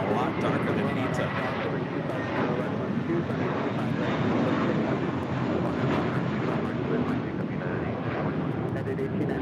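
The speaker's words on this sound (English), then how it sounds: "Korean Air Flight 11 about to land on 24 right, coming in from Seoul on a 7-year-old 747-8 Intercontinental" Korean Air Boeing 747-8 Intercontinental landing on runway 24 right at LAX, a dense steady jet roar with wind buffeting over it, loud and continuous throughout.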